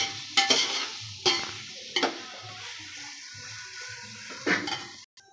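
Food being stirred in a cooking pot with a metal utensil, giving several distinct clanks and scrapes spread across a few seconds over a faint sizzle in a home kitchen.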